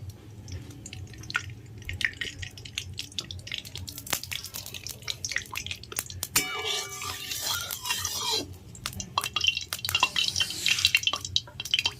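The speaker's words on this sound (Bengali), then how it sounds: "কড়াই গরম হয়ে গেছে, তেল দিয়ে দিচ্ছি।" Cooking oil hits a hot wok and sizzles in a steady crackling hiss with scattered pops. The spitting grows busier midway and then continues irregularly near the cooktop.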